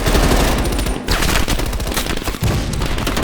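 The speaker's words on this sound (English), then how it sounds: "Heavy MG on the ridge." Heavy machine gun fire in the Call of Duty Black Ops video game, loud close sustained bursts of rapid shots with two brief pauses, no voices over it.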